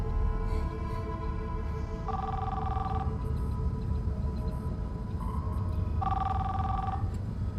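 Telephone ringing in a tense indoor scene, two bursts of electronic ring tones repeating in short pulses over a low background rumble, with no voices.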